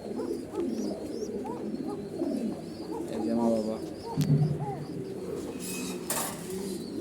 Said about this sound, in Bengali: এই যে কোকা কবুতর